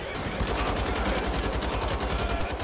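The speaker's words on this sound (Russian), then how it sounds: "это вообще откуда у меня стреляют?" Loud, sustained machine-gun fire in Wolfenstein: The Old Blood, a dense rapid stream of shots filling the whole stretch without pause.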